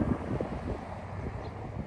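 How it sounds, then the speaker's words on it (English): Gusty wind buffets the microphone near a train derailment cleanup site, a steady low rumbling roar with no clear breaks, close and fairly loud throughout. "It's windy."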